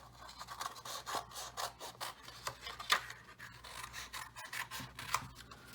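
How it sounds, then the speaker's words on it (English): Scissors snipping through paper up close, a quick run of repeated blade closes and soft rustling, fairly quiet, with no talking. "Since I have scissors, I'm just going to cut it off"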